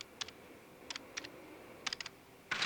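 Slow typing on a computer keyboard in a 1981 horror film, sparse clusters of two or three distinct key clicks separated by pauses, close and clear over a quiet hum, ending in a denser burst.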